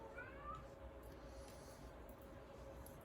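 A pet cat gives a faint meow early on, sliding upward and fading quickly. The meow sits in a quiet room under a low hum.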